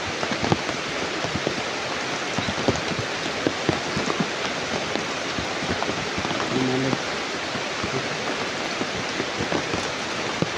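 Heavy rain pours down in a dense, steady hiss of drops striking surfaces, with a faint brief voice partway through.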